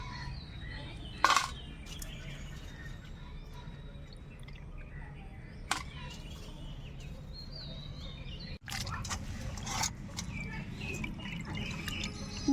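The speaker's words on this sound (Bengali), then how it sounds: "এই দেখুন কত সুন্দরভাবে মাছটা ধুয়ে নিলাম" Small tangra fish are rinsed in water, a steady close wash of splashing and dripping with a few sharper knocks and sloshes.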